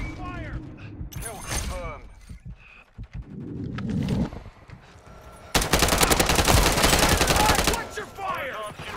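Bursts of automatic and single gunfire from the video game Rust ring out in rapid clusters, with a long, loud sustained volley partway through, while voices talk over the action.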